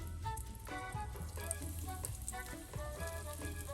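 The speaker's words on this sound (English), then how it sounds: "So let's get them in the frying pan." Steady crackling sizzle of food frying in a pan, continuous and moderately loud with small pops throughout.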